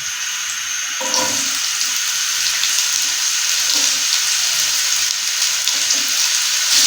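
Carrots sizzle steadily in a frying pan of hot ghee, a loud continuous hiss with faint crackles that swells slightly as the pieces settle into the fat.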